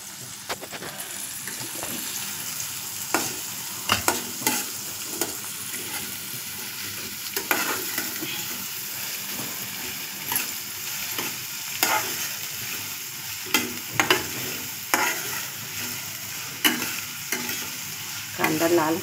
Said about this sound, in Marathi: अगोदर कांदा लाल करते